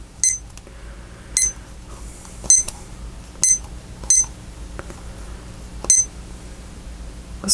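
A kitchen-style timer gives short electronic beeps as its buttons are pressed while being set, seven or so crisp chirps at uneven intervals, close and clear over a quiet room.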